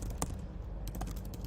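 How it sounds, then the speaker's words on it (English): Rapid, fairly quiet clicks of computer keyboard keys pressed in quick succession while a comment is typed, close up with no voices. "And so I can go ahead and type into this."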